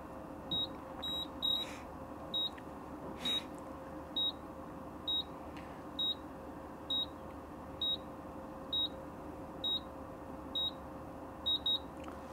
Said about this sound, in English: they won't stop beeping until you bring them back up again